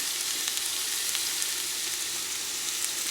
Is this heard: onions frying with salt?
yes